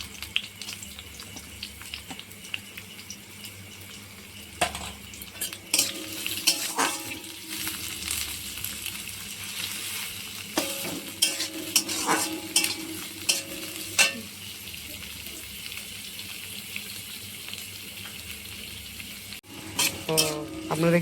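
Onions frying in oil in a pan, a steady sizzle broken by repeated bursts of a utensil stirring and scraping against the pan, close and fairly quiet, with no talking.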